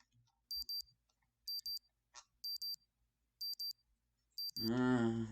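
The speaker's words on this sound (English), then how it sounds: "A beeping sound I'm not used to wakes me up." Five evenly spaced pairs of high electronic beeps from a phone alarm repeat, then a louder tonal sound starts abruptly at the end.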